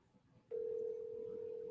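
A steady telephone tone starts abruptly after a half-second of quiet room hiss and holds unbroken at an even level, fairly faint, with no talking over it.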